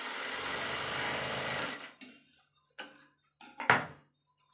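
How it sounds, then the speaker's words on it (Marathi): Sewing machine stitching a tuck in fabric, a steady fast mechanical whir for about two seconds, then stopping, followed by a few short clicks and handling knocks. "चला आता टकचं आपल्याला शिवून घ्यायचं आहे"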